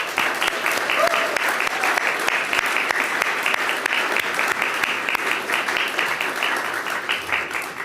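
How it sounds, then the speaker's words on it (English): Sustained, even applause from a large room of guests at a St. Patrick's Day breakfast, many hands clapping steadily from start to finish. "Let's send up an applause to all our ancestors"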